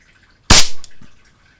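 Single sharp crack from a Shakespeare Acro 1 .22 caliber air pistol test shot, loud and close, followed by a brief softer thud as the pellet strikes, with no talk.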